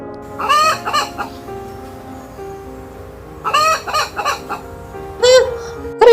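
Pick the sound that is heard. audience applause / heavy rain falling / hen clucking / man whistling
hen clucking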